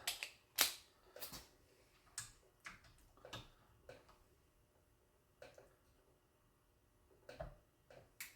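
A torque wrench tightens supercharger bolts on a Camaro SS with an LSA supercharger, giving a series of sharp, close ratcheting clicks at irregular intervals with short pauses between bursts.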